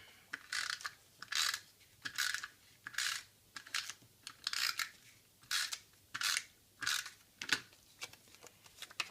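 Snail adhesive tape runner pressed along card paper to lay a strip across the front of a handmade card, a series of close, crisp ratcheting zips repeated in a regular rhythm.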